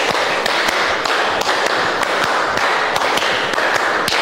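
A classroom of students clapping a rhythmic pattern together, sharp claps landing in regular groups across the room, loud and close with no talking.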